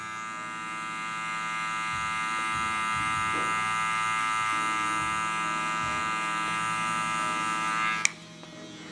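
Electric hair clipper running steadily while cutting a taper fade, a close, continuous buzzing drone with slight shifts as it moves through hair, then abruptly switching off near the end.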